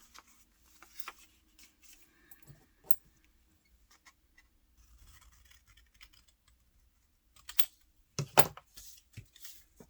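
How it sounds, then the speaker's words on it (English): Scissors snip through a thin, dry book page being cut in half to make a small coin envelope, giving scattered light scratchy cuts that turn into a louder cluster of crisp snips near the end. "So maybe we cut this in half."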